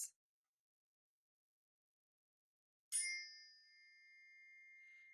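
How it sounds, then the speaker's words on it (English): Meditation chime struck during a full moon sound journey: a tiny click at the start, silence, then one bright metallic strike that rings on with a sustained shimmering tone. "will start by 3 loud chimes to align our chakras to the Gemini full moon"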